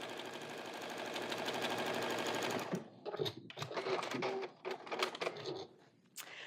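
A sewing machine stitches pieces of a scrappy quilt block from leftover fabric strips in a steady, fast whir for about two and a half seconds, then runs in shorter stop-start bursts with brief pauses between them.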